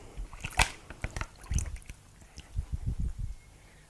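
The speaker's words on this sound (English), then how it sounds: "I'm just going to add the ice to it." Ice is dropped into lye water for charcoal soapmaking, close clinks, knocks and small splashes in an irregular series, with a clustered rattle toward the end.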